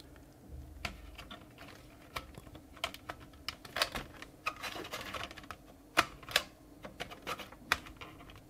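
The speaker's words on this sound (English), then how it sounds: "So, what's making the scraping noise? Is it the disc rotating?" Amiga A600 floppy disk drive struggling with a Workbench disk that does not seat well, giving a faint, irregular scraping and clicking patter with sharper ticks scattered throughout, heard close up and alone.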